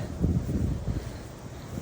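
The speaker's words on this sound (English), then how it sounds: "It's windy too" Wind gusts buffet and rumble low and steady outdoors, with no voices.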